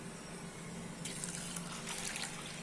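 Water poured over washed mixed dal in a bowl to soak it, a soft trickling stream that swells into a fuller, splashing fill partway through, close by with no talking.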